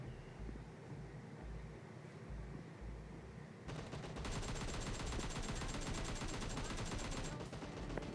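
Bursts of automatic gunfire in PUBG Mobile Lite begin partway through and continue in a dense rapid stream, loud and close, after a quieter stretch of wind and low rumble.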